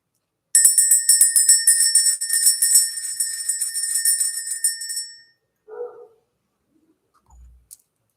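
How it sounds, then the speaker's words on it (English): A small bell rung to clear energy at a morning spiritual reading gives a bright, rapid ringing for about five seconds. It then fades into silence, followed by a couple of faint knocks. "Let's go ahead and ring the bell."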